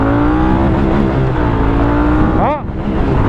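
Moto Guzzi 1200 Griso SE motorcycle accelerating hard in first gear up to its rev limiter, a loud, close engine roar climbing steadily in pitch before a brief drop near the end.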